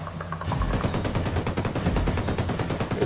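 Sustained automatic gunfire in a jungle mission of a shooter game, a loud, rapid burst of evenly spaced shots starting after half a second and continuing to the end.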